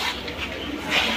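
Pigeons kept as a breeding pair coo close by in a short burst of soft, throaty calls, with some background murmur.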